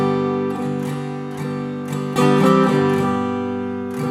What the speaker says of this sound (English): you're going to hammer these fingers, so it'll sound like this.